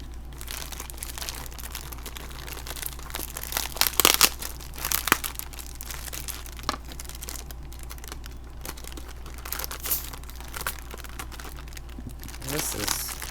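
Plastic protective wrapping on a Lenormand card deck being cut open and crinkled, scattered crackling and crunching bursts, loudest in the middle, over a low steady hum.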